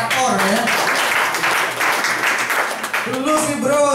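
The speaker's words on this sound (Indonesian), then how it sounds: "Tepuk tangan dong teman-teman buat operator ya" Friends at a gathering clap for the operator. The brisk applause swells through the middle, and voices talk over the start and end.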